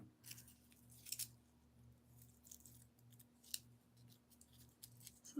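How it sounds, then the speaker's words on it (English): Scissors snip through craft material in a few quiet, crisp cuts at irregular intervals, faint against a low background hum. "Let me cut this down a little bit."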